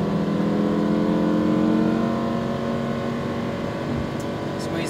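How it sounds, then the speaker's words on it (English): A Lamborghini Huracan accelerates at full throttle on a track, its engine a loud, sustained rising drone heard from inside the car, while a voice speaks over it. "you're on throttle all the way down, keep accelerating."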